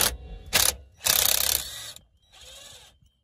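An impact wrench removing bolts on a Land Rover Discovery rattles in loud, close bursts, a short burst, a longer hammering run, then a quieter final burst, with pauses between them.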